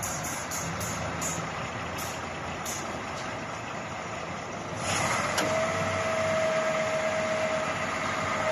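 A used Caterpillar Cat 140K motor grader runs steadily close by, a continuous diesel engine drone with high whining tones, brief beeps early on and a louder surge midway, then a sustained tone.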